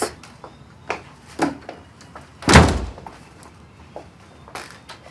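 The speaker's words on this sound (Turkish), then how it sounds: "Kapıyı kapat." Indoors, a door swings shut with a single loud slam in the middle, amid scattered lighter knocks and footsteps.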